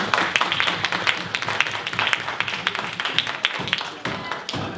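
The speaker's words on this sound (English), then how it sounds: "let's hear it for Miss Beth." Steady applause from an audience, a dense patter of clapping hands that carries on for several seconds without a break.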